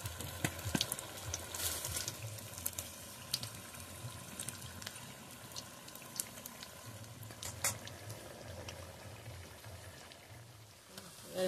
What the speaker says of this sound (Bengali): এটা আমি একবার ভেজে নিয়েছি, আবার একবার ভেজে নেব, তাহলে খুব মুচমুচে হবে